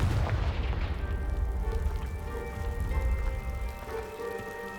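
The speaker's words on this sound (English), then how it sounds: "Blast it. Confringo!" The Confringo fire spell in Hogwarts Legacy blasts apart a pile of debris, a heavy booming burst at the start that fades into a rumbling tail under sustained musical tones.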